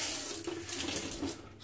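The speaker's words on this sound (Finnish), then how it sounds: "Otetaan pikkasen vettä." Tap water runs steadily into a kitchen vessel while cooking a minced meat and potato casserole, a close, continuous splashing hiss with no talking.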